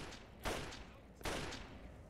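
Gunfire in The Pitt DLC video game: two sharp, loud bursts about three-quarters of a second apart, each with a short decaying tail, and no talking.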